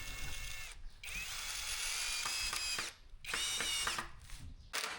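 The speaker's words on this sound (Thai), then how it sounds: "ก็เจาะแล้วก็ขันจบที่สว่านโรตารี่ตัวเดียวเลย" Rotary drill drilling into and fastening a steel angle bracket while building a lightweight partition wall, whining in loud sustained runs with pitch shifts, broken by brief pauses between bursts.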